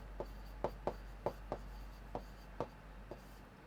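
A pen or chalk writing out a maths solution on a board, with about ten short, sharp taps and strokes at an uneven rhythm, close and quiet over a low steady hum, with no talking.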